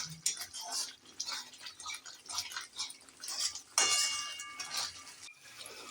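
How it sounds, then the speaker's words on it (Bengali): A paneer curry is stirred in a pan over a raised gas flame, with repeated scraping and clinking of a utensil against the cookware and a soft sizzle, plus a brief voice in the background. "এবার আমি একটু গ্যাসটা বাড়িয়ে বাড়িয়ে আমি নেড়ে দিচ্ছি"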